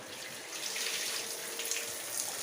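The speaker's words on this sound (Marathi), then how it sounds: "ही चांगली मी धुवून घेणार आहे 2 पाण्याने" Peeled green or red vegetable stems are rinsed under running water, a steady close splashing and trickling flow with no voices.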